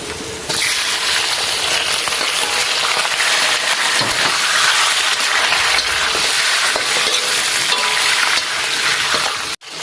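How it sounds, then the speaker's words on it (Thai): Pork belly hits a hot pan with fried garlic and sizzles loudly in a dense, continuous hiss close up, with occasional scraping stirs and no one talking, for a Thai mixed-vegetable stew. "กระเทียมเริ่มเหลืองเราใส่หมูสามชั้นเลยค่ะ"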